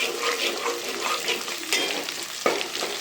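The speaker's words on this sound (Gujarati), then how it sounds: "ચાલો લસણ નાખી દીધું" Garlic sizzles and crackles in hot oil in a home kitchen pan, a steady close frying hiss with occasional louder pops and stirring scrapes.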